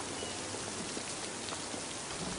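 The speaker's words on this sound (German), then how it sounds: "was für ein Regen" Heavy rain pours down steadily, a dense, even hiss of drops on surfaces at low level with no voices.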